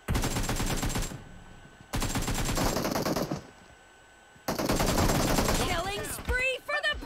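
Automatic gunfire from a PUBG Mobile firefight, loud rapid bursts broken by short pauses, with a brief quieter gap and a final stretch of shots mixed with chirpy game effects.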